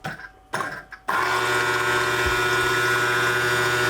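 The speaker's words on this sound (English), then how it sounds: "So I'm gonna power up the bilge pump." A sailboat's electric bilge pump starts after a few brief clicks and then hums and whirs steadily up close, with water sounds faintly mixed in.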